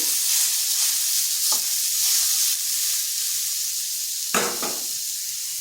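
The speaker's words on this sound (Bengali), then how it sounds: "এখানে আমি নারকেলের পুর বানাবো, তাই কড়া বসিয়ে দিয়েছি। দিয়ে দিচ্ছি নারকেল।" Grated coconut being stirred in a hot wok for a sweet filling: a steady close sizzle and hiss with a few scraping strokes of the spatula, no voices.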